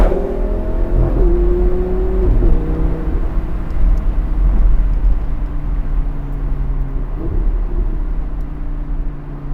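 A car fitted with an RSC LiveTune TCU accelerates hard, its engine note climbing steadily and dropping at several quick, smooth gear shifts, loud and close with constant road rumble underneath.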